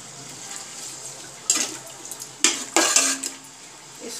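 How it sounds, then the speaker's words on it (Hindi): Chopped medium onions go into a hot cooking pot for yakhni pulao, giving several short, sharp bursts of sizzling and light clatter against a quiet kitchen background. "अब मैं इसमें प्याज डालूंगी।"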